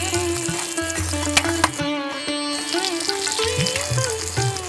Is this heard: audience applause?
no